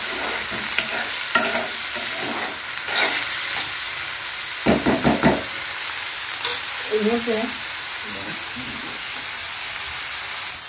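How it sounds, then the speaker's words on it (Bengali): Onions frying in a pan with oil, a continuous sizzle and crackle broken by clattering stirring strokes and scraping of a spatula, close up. "পেঁয়াজগুলোকে একটু ভেজে নেবো, বেশি না, একটু লাল করে নেবো জাস্ট।"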